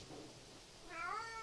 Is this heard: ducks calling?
no